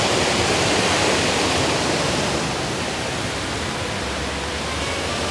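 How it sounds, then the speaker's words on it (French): Water pours through a small lock beside a canal, passing under a hotel-restaurant in Chablis; the rush is a constant, loud, close roar with no voices. "c'est comme une petite écluse qui passe sous un hôtel-restaurant"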